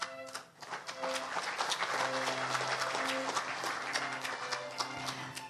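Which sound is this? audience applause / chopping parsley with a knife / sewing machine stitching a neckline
audience applause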